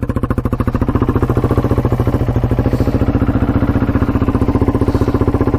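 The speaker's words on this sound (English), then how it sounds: "The exhaust is so loud." A modified Polaris Outlaw 500 quad idles with a loud exhaust, a close, steady rapid thumping putter that holds an even rhythm throughout, alone without talk.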